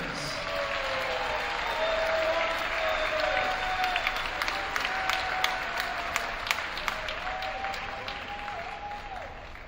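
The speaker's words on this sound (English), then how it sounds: "How about one more round of applause for our seniors?" A crowd at a high school girls' varsity basketball game applauds the seniors with sustained clapping that swells slightly midway. Whistles and scattered cheering voices rise above the applause.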